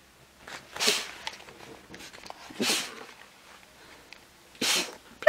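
A small dog sneezes three times, each a short, sharp burst spaced about two seconds apart, with faint snuffling and movement in between, recorded close up in a quiet outdoor setting.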